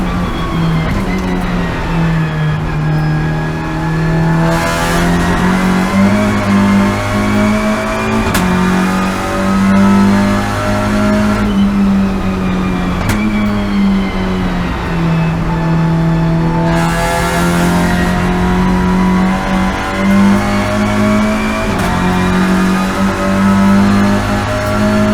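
A TCR touring car engine runs and revs up loudly and close for the whole stretch, its steady drone rising and falling through repeated throttle blips with no talk over it.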